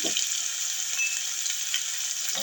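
Onion paste added to hot oil with whole garam masala in a pan for a rui fish dish, a loud, continuous hiss of frying with little else over it.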